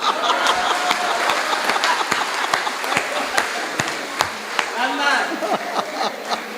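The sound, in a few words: audience applause at poetry comedy show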